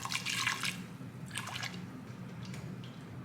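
Reserved pasta water splashes and drips into a pan with butter in a couple of short bursts, then a soft sizzling bubble continues underneath, fairly quiet and close.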